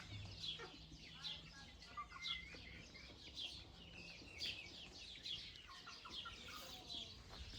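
Several small chickens cluck and chirp in a yard, with repeated short calls coming in a steady rhythm at moderate distance and faint talk underneath.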